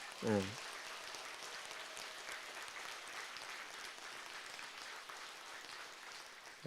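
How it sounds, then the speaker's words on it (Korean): Steady applause from a large crowd fills a Buddhist dharma assembly, sustained and even throughout, with a brief voice heard at the start. "다시 한번 큰 박수 한번 부탁합니다"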